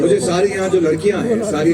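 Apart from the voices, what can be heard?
None of the usual background noises is heard.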